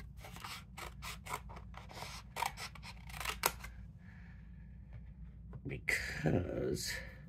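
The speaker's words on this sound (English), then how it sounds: "I'm gonna have to cut my paper." Scissors snip through paper for gift tags in a run of short, quick, close cuts with small pauses, followed by a louder rustle of paper being handled.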